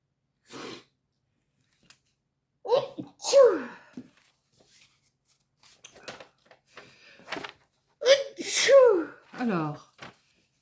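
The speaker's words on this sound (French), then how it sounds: "Oh, je vais éternuer." A single sharp sneeze bursts out between stretches of nearby talk, with quick breaths around it.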